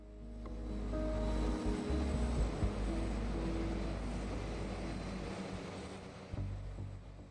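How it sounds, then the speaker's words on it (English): An ATR 72 turboprop airliner taxiing toward its runway, a steady low engine drone with a sustained tonal hum that swells and fades slightly, heard at moderate distance over the whole span. "The plane is now taxiing towards its assigned runway."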